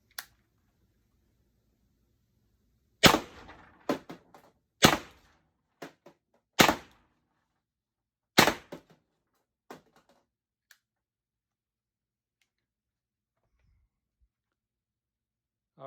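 A Pepperball TCP launcher firing JULv2 projectiles at a target, about five sharp, distinct pops spaced a second or two apart, each with a faint echoing tail, in otherwise quiet surroundings.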